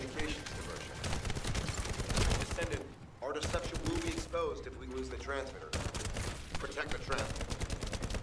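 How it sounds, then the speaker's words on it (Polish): Enemy gunfire in The First Descendant rattles in dense bursts with brief gaps between, mixed with game effects and someone talking over it. "oni strzelają mi w to"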